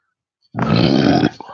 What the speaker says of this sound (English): I actually burped right into the freaking microphone